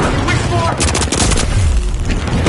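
A frag grenade explosion in the shooter game The Finals booms loudly amid dense gunfire and crashing debris, all under continuous excited commentary.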